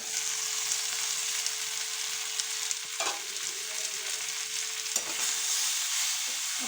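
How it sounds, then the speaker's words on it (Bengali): Flat beans and potatoes with spices sauté in a pan, a constant sizzle beneath a few sharp scrapes of a stirring spoon, close and steady. "এইবারে আমি ভালো করে এটা কষাবো"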